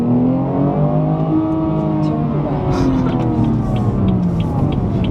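Another car overtakes a moving 2017 BMW 340i on the road, its engine and tyre noise rising and fading beneath the steady, loud cabin drone and road roar, with an occasional voice.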